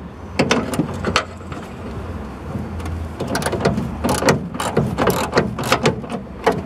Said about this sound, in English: Get a spanner in there.